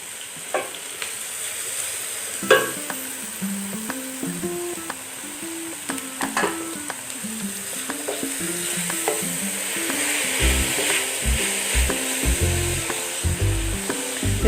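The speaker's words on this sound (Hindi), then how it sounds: "अब मैं इसमें शामिल करूँगी 2 अदद शिमला मिर्च" Two seeded bell peppers cut into cubes stir-frying with sautéed garlic in a pan for white sauce pasta: a continuous close sizzle with repeated scraping stirs, growing busier toward the end.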